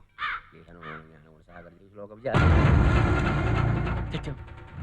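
In a Telugu action film scene, a crow gives several short, harsh caws close by, followed by a sudden loud, sustained burst of noise that fills the rest of the moment.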